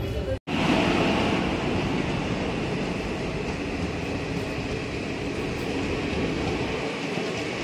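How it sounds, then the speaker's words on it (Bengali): The Saurashtra Express from Porbandar to Dadar rolls into platform 2 at Vapi station with a loud, continuous rumbling roar that holds steady and close throughout the clip. "এই হচ্ছে প্ল্যাটফর্ম নাম্বার 2-এ আমার ট্রেন 2 নম্বর ঢুকবে 3:42 সৌরাষ্ট্র এক্সপ্রেস"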